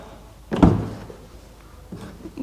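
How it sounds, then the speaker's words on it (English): A door card being pressed into place on a Ford Fiesta EcoBoost door gives one loud, close thud with a short clatter. A few fainter knocks and taps follow. "put the door card on."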